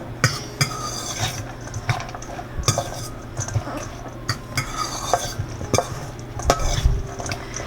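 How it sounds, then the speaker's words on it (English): A fork tosses a shrimp and lobster roll salad with lemony mayonnaise in a bowl, producing repeated close clinks and scrapes of metal on the dish with soft wet stirring between them. "I'm going to give this a toss just with the fork here."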